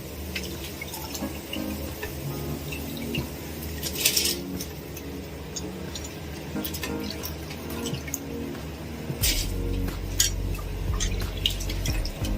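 Water boils in an open cooking pot while jeera rice is being made, a steady bubbling and dripping texture near at hand with a deeper rumble toward the end.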